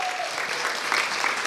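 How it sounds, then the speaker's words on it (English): An audience gives a round of applause for the panelists at an evening leadership event, a dense crowd of clapping hands sustained throughout the short moment, with faint voices mixed in. "we will give the panelists another round of applause"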